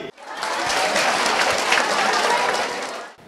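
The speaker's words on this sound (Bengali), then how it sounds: "সবাই জোরে একটি হাততালি" School students clap together in loud, dense applause that swells quickly, holds steady for about three seconds, then stops abruptly.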